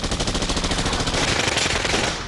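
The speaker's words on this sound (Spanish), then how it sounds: "El tiroteo se intensificó." Machine guns firing during a hostage rescue raid in a sustained, dense rattle of rapid shots that swells in intensity, loud and close, with no speech.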